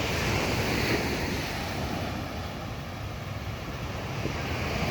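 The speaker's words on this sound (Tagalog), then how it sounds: "napakalalaki ng alon ngayon dito" Big sea waves off the coast near Puerto Azul, heard from a small boat: a loud, continuous roar of surf with churning water and gusty wind rumble on the microphone, no voices.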